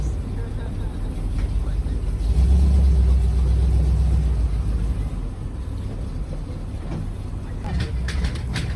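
A swamp buggy rumbles along a compacted dirt road, its engine a low continuous drone that swells briefly, with people talking over it.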